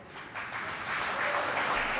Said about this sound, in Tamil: கைத்தட்டுங்க இதுக்கு